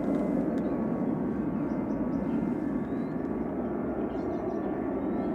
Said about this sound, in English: Heading off next is Ryanair to Tenerife South